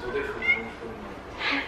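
A cat meows a couple of times, short faint cries, one bright mew early and a louder one near the end, mixed with background voices in a busy indoor setting.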